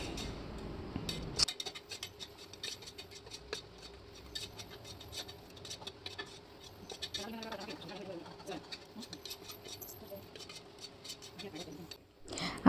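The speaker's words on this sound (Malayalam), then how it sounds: "വഴറ്റിക്കൊണ്ടിരിക്കുകയാണ്." Kashmiri chilli powder and ground spices sautéed and stirred in a pan for tomato rice: steady soft scraping and pattering from the pan, with a voice present at times.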